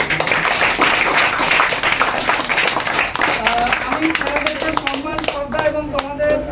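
Audience applause at a Rabindranath Tagore birth anniversary gathering in a coaching centre, steady dense clapping throughout, with someone speaking over it.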